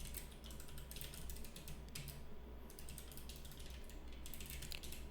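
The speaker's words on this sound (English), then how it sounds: "I always get worse at typing whenever I'm being recorded" Rapid, steady keyboard typing with clicky keystrokes in continuous bursts, close and fairly quiet, over a low constant hum.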